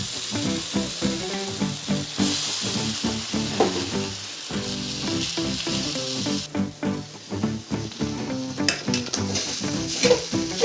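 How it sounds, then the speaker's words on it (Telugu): Poha (flattened rice) fries in a pan with a loud, steady sizzle. A spoon pushes it around in repeated rhythmic scrapes and knocks against the pan, close and busy throughout. "పుల్లు పెట్టి అటుకులు ఇట్లా కలపాలి."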